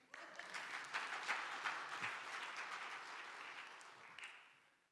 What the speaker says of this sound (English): You should clap at that one